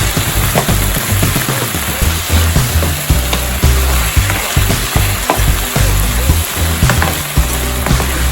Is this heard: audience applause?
no